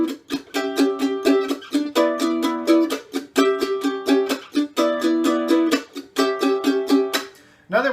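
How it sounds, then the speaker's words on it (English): Acoustic guitar chords in a jazz grass waltz, with muted-string pick drags down and up between ringing strums, forming a steady, close rhythmic pattern with short choked scratches. "you're going to let your pick drag down and up again over the strings"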